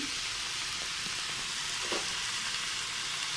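Steady, close sizzling of momo stuffing frying in a pan, an even crackling hiss with a soft stirring scrape midway and no talking.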